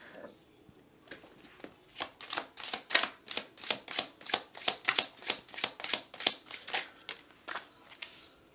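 Tarot cards are shuffled close up in a steady run of about twenty crisp riffling bursts, each a short papery flutter in an even rhythm with no talk.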